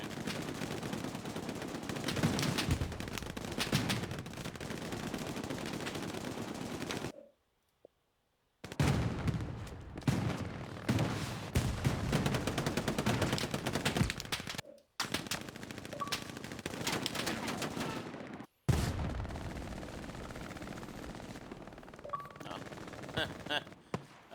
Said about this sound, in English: Right now, it is just a lot of shooting.